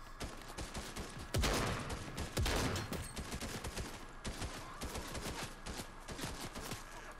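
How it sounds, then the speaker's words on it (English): Video game gunfire in GTA Online or Fortnite: rapid volleys of shots crackle in uneven bursts, two especially loud blasts standing out early, with a quieter patter of shots continuing afterward. "Oh, I'm getting shot at."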